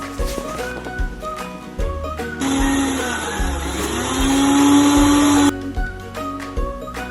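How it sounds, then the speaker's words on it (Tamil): Mango and orange juice blending in a mixer jar, a loud motor whine that starts abruptly, holds steady for about three seconds with its pitch rising, then cuts off sharply, surrounded by lighter kitchen clatter. "இப்போ நல்லா பிளெண்ட் பண்ணிக்கோங்க."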